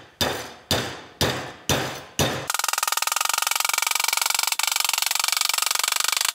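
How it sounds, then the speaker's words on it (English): Aluminum bracket being bent with a hammer: five sharp, evenly spaced metallic blows ring out close by, followed by a continuous rapid buzzing rattle. "That should give me a surface that I can beat on with the hammer and get this thing at least most of the way down."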